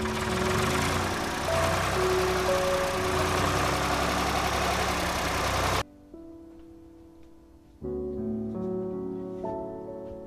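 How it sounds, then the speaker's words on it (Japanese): An engine turns over and runs with a dense, knocking idle, loud and close. It cuts out abruptly, then a quieter engine note returns with wavering tones, with no talk over it. "はい、じゃあエンジンかけて。"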